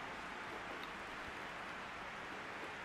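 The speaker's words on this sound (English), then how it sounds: "It's absolutely pouring down where I am at the moment." Heavy rain pouring outside as a constant, even hiss, faint and distant with no other sounds.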